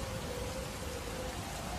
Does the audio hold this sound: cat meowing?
no